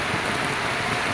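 Steady, dense rainfall hisses continuously on a farm, a heavy downpour with no pauses.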